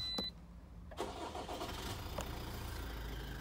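A Toyota RAV4 2.0 D-4D diesel is started with its push-button stop-start control: a brief click, then the engine catches about a second in and settles into a steady, close idle rumble.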